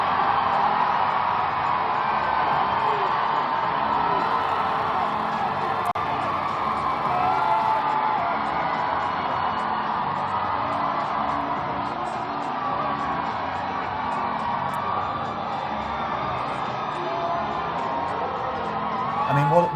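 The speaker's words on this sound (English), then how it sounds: "There was an audible cheer when that happened." A large crowd of about 2,000 at a New York City mayoral election night event for Zohran Mamdani cheers and whoops continuously, a dense sustained roar filling the hall with no break.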